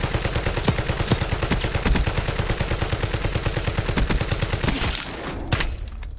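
Rapid automatic gunfire from a gun in Call of Duty, a loud sustained burst of closely spaced shots that runs for about five seconds before breaking off into a couple of isolated blasts.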